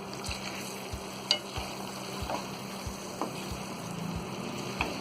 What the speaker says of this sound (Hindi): अब इन सारी चीज़ों को अच्छी तरह हम भून लेंगे।